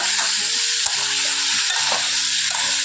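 Loud, continuous sizzling of pumpkin frying in hot oil in a wok, with repeated scraping and stirring strokes against the pan throughout.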